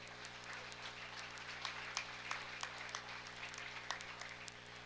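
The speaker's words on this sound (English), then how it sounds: "Let's give them a round of applause." A small crowd at a county fair breeding beef show claps for showmanship winners, faint scattered claps over a steady low electrical hum.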